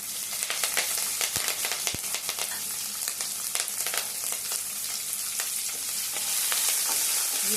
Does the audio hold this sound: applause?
no